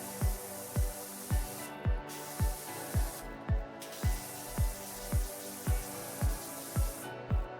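A pressure washer in PowerWash Simulator 2 blasts a mining truck in a dozen short, evenly spaced hissing bursts, each rising and cutting off in a steady rhythm, close and alone.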